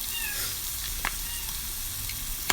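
A short cat meow rises over the steady hiss of menudo cooking in a pan, with a second faint mew near the end.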